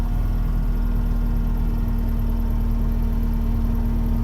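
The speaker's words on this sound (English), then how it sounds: "Then we start the engine." A New Holland L220 skid steer engine idles steadily with a deep, constant low hum and a faint whir, loud and close with no talking; no starting crank is evident.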